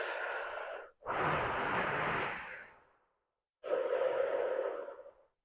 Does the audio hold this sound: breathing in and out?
yes